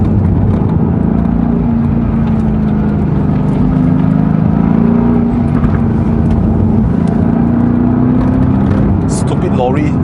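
Mercedes-AMG GT S engine held hard in gear on a mountain road run to Genting, a loud sustained rumbling drone with a slowly rising pitch, heard close from inside the car with people talking over it.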